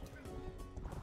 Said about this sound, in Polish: to jest konik